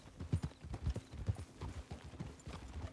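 Horse hooves clip-clop in a steady walking rhythm in the Western video game Red Dead Redemption, close and fairly loud, with a faint low drone beneath and no talk.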